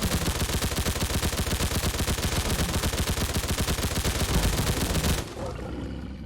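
A PPS-43 submachine gun fires fully automatic in a Fallout 4 mod, one sustained rapid burst of loud, evenly spaced shots lasting about five seconds before it cuts off abruptly.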